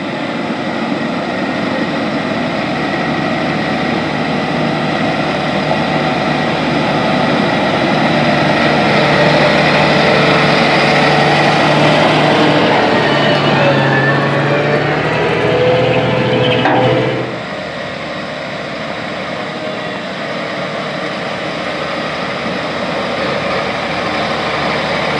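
Loud, continuous diesel engine rumble of a John Deere 8RX 370 tracked tractor and an 8R 370 wheel tractor with grain carts crossing a field waterway, swelling to a peak then dropping abruptly to a lower steady drone.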